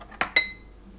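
A spoon stirs a cinnamon sugar mixture in a dish, giving two quick, close scrapes and clinks against the dish, the second ringing briefly before quiet returns, with no voices.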